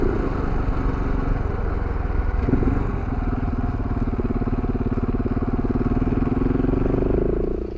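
Motorcycle ridden along a canyon road, with a close, steady engine drone and a rhythmic pulsing throb that lifts slightly in pitch toward the end, carrying on without pause.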